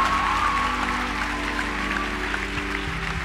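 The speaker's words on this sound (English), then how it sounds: "Big round of applause." Audience applause for a mother joining her son on stage at a morning TV show, a steady mass of claps under a faint sustained tone and low background hum.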